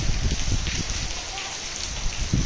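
Steady rain falls in a cold village setting, a dense, even hiss with low rumbling and faint background voices.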